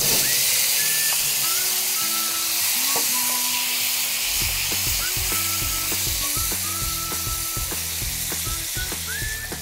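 Tomato pieces sizzle steadily in a hot pan for a tomato onion chutney, a dense continuous hiss with clinks and scraping of a spoon or spatula against the pan growing busier midway through.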